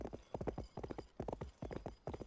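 Rhythmic hoofbeats of a horse galloping at full stamina in the video game Cowboy Life Simulator, a steady close clip-clop of repeated beat groups heard alone with no talk.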